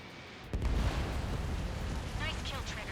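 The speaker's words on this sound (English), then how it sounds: "Missile away." A missile launch and explosion in the jet combat game Ace Combat 7, heard as a sudden deep boom followed by a rushing, roaring rumble that carries on under faint radio chatter.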